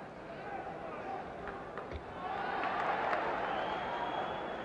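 A boxing arena crowd during a Floyd Patterson versus Oscar Bonavena bout, steady broadband murmur and applause swelling louder midway, sustained ovation under faint background commentary.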